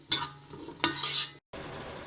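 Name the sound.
tomatoes and spices sautéing in a pan for soup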